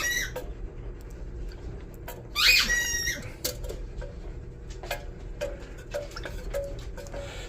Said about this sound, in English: That was a dog with a squeaky ball.